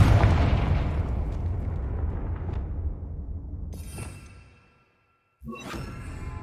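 A Confringo blasting spell in Hogwarts Legacy bursts with a heavy explosive boom that decays over several seconds, then a brief silence before a second sharp blast with crackling debris.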